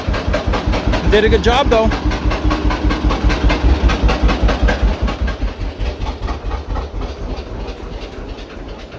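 John Deere AR tractor engine idling with a steady, loud rhythmic chugging that gradually slows and weakens as it runs out of fuel, with someone briefly talking over it early on.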